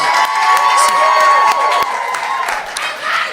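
A church congregation cheers and shouts in acclaim of the Lord, a dense, steady crowd roar with scattered clapping and raised voices throughout.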